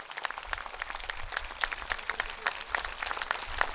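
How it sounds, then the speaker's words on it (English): Scattered, uneven clapping from a standing crowd giving an ovation to Guruji at an International Day of Yoga celebration at S-VYASA; individual claps stand out distinctly, moderately close, with no talk. "give a big round of standing ovation to our own Pujya Guruji, and big round of applause to Guruji."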